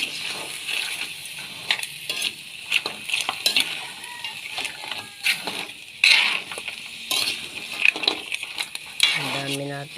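Garlic, ginger and onion sautéing in a pan, a hissing sizzle broken by frequent scraping stirs and light clinks of a utensil against the pan, close and continuous.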